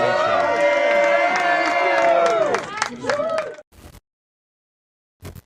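A crowd cheers and claps loudly for a man named Tommy, a sustained roar with whoops that fades out abruptly, followed by near silence and a brief burst of noise at the end.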